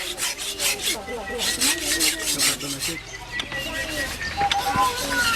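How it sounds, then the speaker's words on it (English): A parang blade is rasped against a sharpening stone or file in quick repeated strokes, close and scratchy, with birds calling faintly in the background and a pause midway before the rubbing resumes. "Son here is sharpening the most important tool that any Nualu has, his parang"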